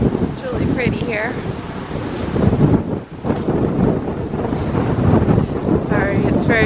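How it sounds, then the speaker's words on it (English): Heavy wind buffets the microphone in loud, continuous rumbling gusts on the bow of a cruise ship, with faint voices and a few higher tones breaking through. "It's just very, very windy."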